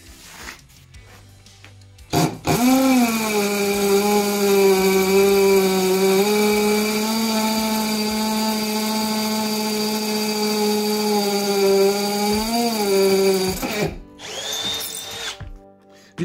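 Milwaukee M12 Fuel FPD0 hammer drill in hammer mode with a 6 mm bit at speed 2, boring through a 3.5 cm concrete tile: a loud, steady whining, rattling drone for about eleven seconds, then spinning down, with no talking.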